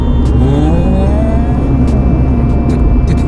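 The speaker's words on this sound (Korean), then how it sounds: "킥다운이 되면서 나오는 팝콘 사운드가 상당히 오래 어, 들립니다" A 2019 Mini Cooper JCW hatchback drives near 100 km/h with a loud, steady engine and road roar, and short sharp crackles and pops from the exhaust on lift-off break through.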